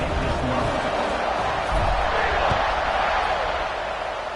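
Stadium crowd at a college football game between Auburn and Minnesota roaring steadily at kickoff after a touchdown, a dense continuous wash of cheering that swells slightly then eases, with a commentator talking over it.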